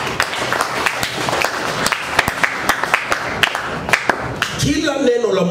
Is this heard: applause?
yes